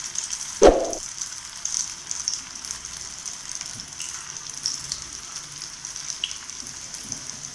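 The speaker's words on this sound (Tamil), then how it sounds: "நம்ம இதில் போட்டு பொரிச்சுக்கலாம்" A stuffed chapati fries in a little oil in a pan over a medium flame, giving a steady, soft, even sizzle with a single sharp tap near the start.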